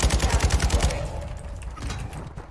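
Rapid shotgun blasts in the shooter game Warzone 2.0, about eight booming shots in quick regular succession, then a reverberant fading tail.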